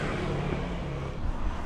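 A car driving along, heard from inside as a steady low engine and road rumble with broadband wind hiss, fairly loud and continuous, no voices.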